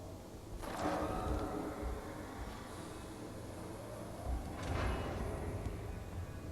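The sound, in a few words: door opening in the video game Fallout 4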